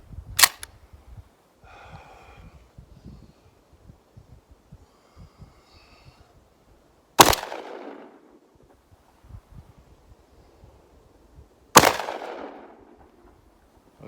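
A Remington 1100 semi-automatic shotgun fires birdshot in three loud, sharp reports spaced several seconds apart outdoors, each followed by a short decaying echo, with faint movement sounds between shots.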